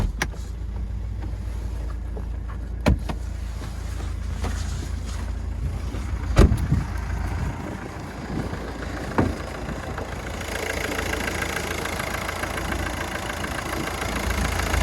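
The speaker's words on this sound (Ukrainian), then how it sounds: "Двигун працює рівненько," A Volkswagen Touran car engine idles with a low steady rumble, punctuated by a few sharp clicks and knocks, and no one speaks.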